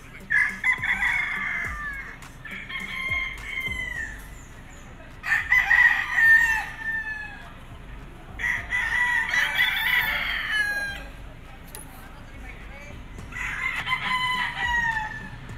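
Elgama Gray gamefowl roosters at a gamefarm crow loudly and clearly, about five separate cock-a-doodle-doo calls spaced a few seconds apart, with soft farmyard clucking and background noise in between.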